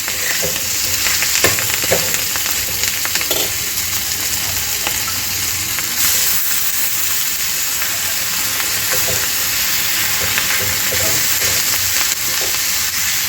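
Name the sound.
wild leafy greens sautéing in a pan over high gas flame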